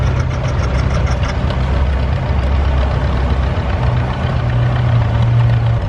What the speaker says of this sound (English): I believe we've started the children's tractor pull.